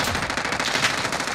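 Rapid automatic gunfire from the Call of Duty Warzone video game, a dense, unbroken burst of loud shots rattling close by for the whole moment, with no voices over it.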